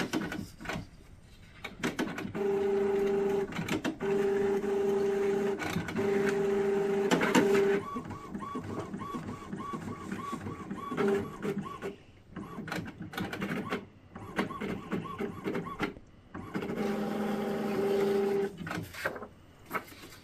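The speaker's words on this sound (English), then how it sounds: "Print another nozzle check." An Epson ET-7700 inkjet printer runs a nozzle check print, with steady mechanical whirring and repeated tonal print-head passes that start and stop in several bursts, close and fairly loud, with no talking.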